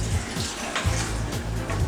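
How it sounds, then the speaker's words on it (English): Water poured from a mug into a cooking pot of Bengali vegetable khichdi, a close, steady splashing pour over a low background hum. "So let's add some more water."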